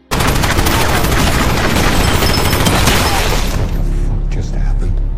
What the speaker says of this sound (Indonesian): Namun tiba-tiba ada sniper musuh yang melepaskan tembakan